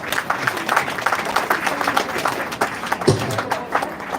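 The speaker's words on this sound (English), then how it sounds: "A round of applause" An audience claps at a formal gathering in a broad, uneven round of applause. The clapping runs throughout with scattered crowd noise and some talk mixed in.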